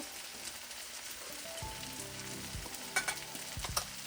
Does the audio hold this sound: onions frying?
yes